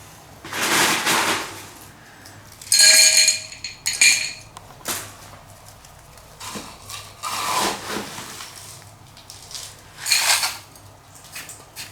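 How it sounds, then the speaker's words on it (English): A bonsai pot being picked up and handled, giving several scattered hard clinks and knocks, some with a brief ringing edge, spread across a quiet background with pauses between them. "I will take this pot."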